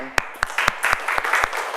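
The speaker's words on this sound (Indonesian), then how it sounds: "Oke, tepuk tangan." Classroom of junior high school students clapping hands together after singing the national anthem, a short burst of sharp, irregular claps rising into a brief patter, close and loud.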